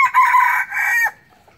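A Laos red junglefowl rooster gives one loud, close crow, a drawn-out call in two segments that ends abruptly into near silence.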